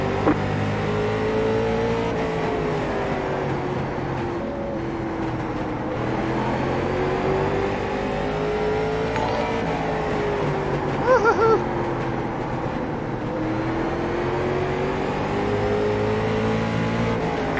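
Late model and super late model race car engines in an iRacing sim race at Lanier, a steady loud drone of several cars at full throttle with rising and falling pitch as they lap, alone without talk.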